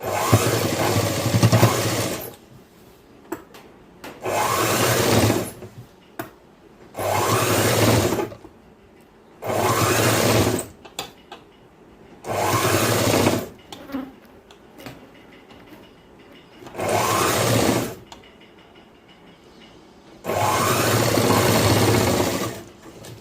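An electric sewing machine stitches a boys' school uniform shirt in repeated bursts of steady, close whirring and buzzing, each run lasting a couple of seconds and separated by short pauses.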